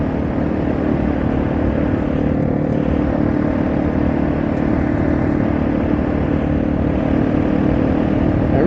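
A Yamaha TW200 dual-sport motorcycle cruising at a steady 35 mph, its engine drone continuous and even, mixed with heavy wind and road rumble throughout.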